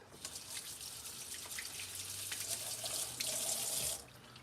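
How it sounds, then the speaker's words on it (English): Cooking water drains into a sink after boiling lobster, with a splashing, rushing flow that grows louder near the end, then cuts off abruptly. "drain the water."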